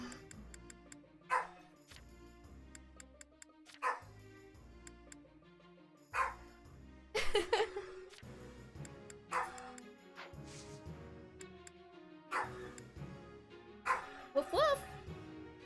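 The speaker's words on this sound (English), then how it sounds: "She's a Pomeranian, in case you couldn't tell by the bark." A Pomeranian barks repeatedly in sharp, high yaps at irregular intervals, some in quick pairs, close and clear over game music, with a person talking in between.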